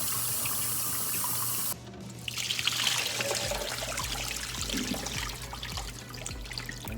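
Cold tap water running into a pot of boiled eggs, a steady splashing rush that starts abruptly and continues at moderate loudness, with no talking.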